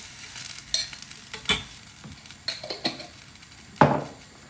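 Pasta sauce going into pasta in a pan, heard as a soft sizzle under repeated close scrapes and knocks of a utensil against the pan, with one louder clatter near the end and no talk.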